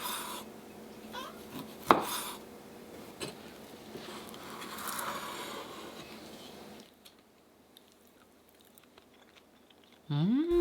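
A knife slices thinly through homemade sausage, a series of soft, close cutting taps and scrapes at an uneven pace, with a louder clack near the start, then quieter, with no talk.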